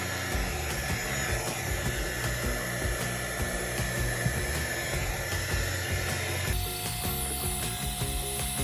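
A craft heat tool or blow dryer drying freshly painted boards gives a steady, close whirring rush with a faint mechanical rattle, shifting slightly in tone near the end.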